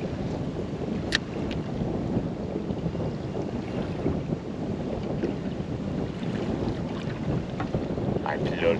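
Steady wind gusting across a lake and buffeting a small fishing boat, a constant broadband rush with low rumbling microphone wind noise throughout, no talk.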